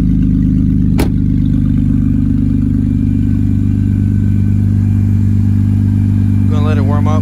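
Straight-piped Mercedes W204 C300 idling loudly while warming up, a steady deep drone close by with one sharp click near the start and a brief voice at the end.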